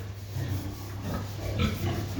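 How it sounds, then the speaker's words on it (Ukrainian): A large sow of about 180 kg grunts during artificial insemination on a farm, giving low, close, continuous snorting grunts with a steady rumble beneath, alone without talk. "Свинка, звісно, вже чималенька."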